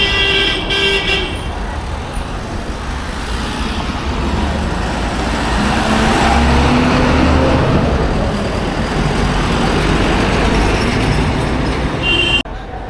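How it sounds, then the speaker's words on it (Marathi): Dense road traffic near Churchgate, Mumbai, a continuous roar of many cars and buses passing close by, with honking near the start and a steady wash of engine and tire noise. "गाड्या पण भरपूर आहेत."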